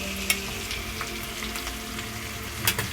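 Tomatoes sautéed in a pan for paneer butter masala produce a steady, moderate sizzle with a few soft clicks and scrapes of stirring, heard close up without any talk.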